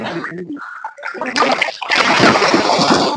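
A fish, a karimeen or pearl spot caught while fishing in Kerala, is made to jump and splashes sharply in water, a burst of loud splatter and sloshing after a brief stretch of talk.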